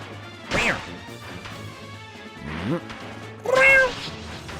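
A cat unit attacking in Fire Emblem: Path of Radiance, three loud yowling meows with sharp impact sounds, spaced about a second and a half apart, the last the strongest.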